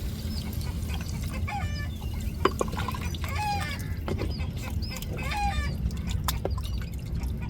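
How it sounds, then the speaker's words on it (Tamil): Water poured into a pot for conch meat curry trickles and drips softly outdoors, while chickens cluck and call repeatedly nearby over it. "தண்ணியை சேர்த்துக்கிருவோம்"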